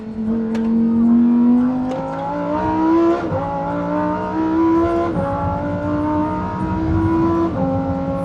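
Steady engine drone inside a moving car with little sound deadening, rising and falling in pitch as it shifts gears, with constant road rumble underneath.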